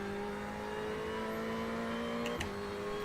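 A race car in a racing sim practising for the Bathurst 12 Hour, with a steady engine drone and whine holding even pitch and a brief burst near the end, no talking.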